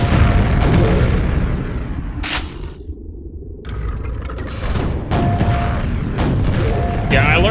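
Rocket launcher blasts in Quake, heavy booming explosions and rumbling impacts mixed with loud game noise, a brief dropout in the middle before the din resumes.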